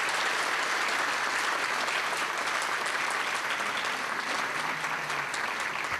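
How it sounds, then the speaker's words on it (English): An audience applauds for Rachel at a youth recognition awards ceremony, loud and continuous clapping that fills the room evenly for several seconds without speech. "how about a big hand for Rachel?"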